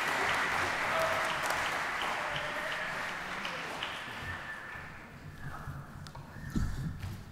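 An audience applauds varsity golfers at a school spring sports awards ceremony, a sustained round of clapping from a crowd in a hall that slowly thins out and fades toward the end.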